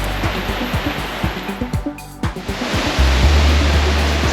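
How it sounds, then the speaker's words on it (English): Main falls on the Lake Marion track along the Milford road, a loud steady roar of cascading water close by, with footsteps on a walkway crunching rhythmically over it. "So these are the main falls coming up here."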